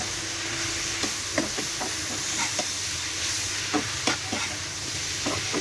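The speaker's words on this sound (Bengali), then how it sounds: "পুঁই শাক আর আলুগুলো দিয়ে কিছুক্ষণ নেড়ে চেড়ে কষিয়ে নিতে হবে" Malabar spinach and potato pieces stir-fried in a pan, a steady hissing sizzle with quick irregular scrapes and taps of a spatula turning the vegetables up close, with no one speaking.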